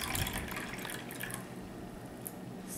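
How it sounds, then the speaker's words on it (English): Liquid is poured into an ice cube tray, a soft, continuous trickle and splash of filling cells heard up close and alone. "am going to pour it in the cubes."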